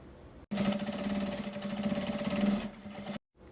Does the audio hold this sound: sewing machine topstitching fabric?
yes